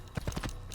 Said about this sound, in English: just gonna be riding on the horse for a minute